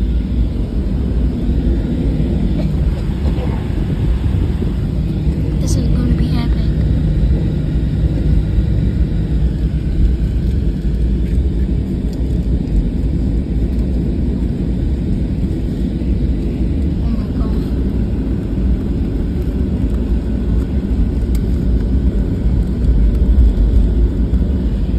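An airliner taking off, heard from inside the cabin as a loud, constant engine roar and rushing noise that holds steady throughout.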